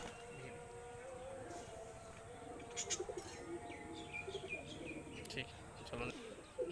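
Pulser breed pigeons coo and chirp softly in short, repeated bursts, faint and fairly close, while people talk over them throughout.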